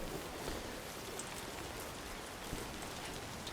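Soft, steady rainfall in a video game, a faint, even hiss of drops that holds without pause and carries no voices.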